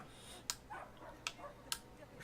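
Dog attacking in the video game Brothers: A Tale of Two Sons, producing three sharp, fairly faint barks or yelps spaced about a second apart over a low background hum.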